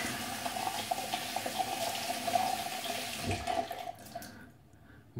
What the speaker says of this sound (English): So I'm gonna wet the brush.